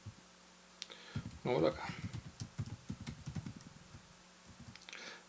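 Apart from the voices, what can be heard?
typing on a computer keyboard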